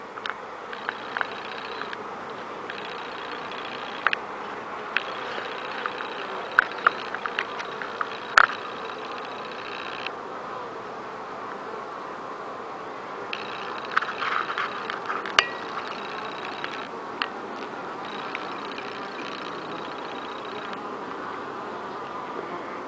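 Steady buzzing of many bees around an active beehive outdoors, a continuous hum with occasional louder passes as individual bees fly close to the microphone.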